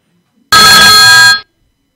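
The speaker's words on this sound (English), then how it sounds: "we have a phone call" A loud telephone ring bursts in for an incoming call on a talk show, one bright electronic trill lasting under a second before cutting off, with silence before and after.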